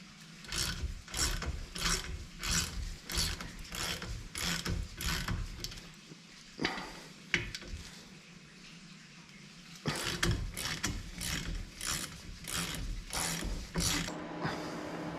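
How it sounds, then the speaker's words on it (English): Ratchet with a 10 mm hex bit loosening brake caliper bolts on a Porsche 911 996, rapid clicking in repeated bursts, pausing midway before resuming, close and alone. "So I've got my 10 millimeter hex bit, and we've got 2 bolts that we have to remove the caliper."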